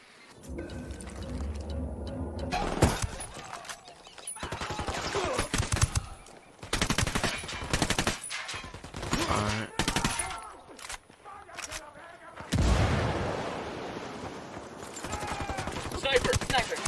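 Heavy machine gun fire in Ghost Recon Wildlands campaign combat, repeated loud rattling bursts of varying length broken by short pauses, with squad voices speaking over and between the shooting.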